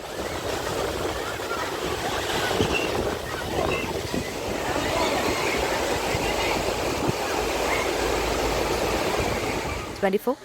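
Rough sea surf pounds the coast at Arattupuzha in Alappuzha, a continuous loud roaring wash of waves heard beneath a voice narrating throughout.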